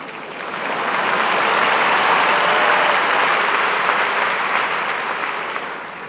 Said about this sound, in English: You can applaud whenever you want while I'm talking here.